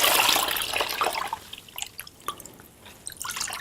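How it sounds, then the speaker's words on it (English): A wet towel is wrung out over a basin of water, giving a few seconds of close, soft dripping and trickling that thins into scattered drops. "put your towel in there, get it nice and dry as you can by wringing it"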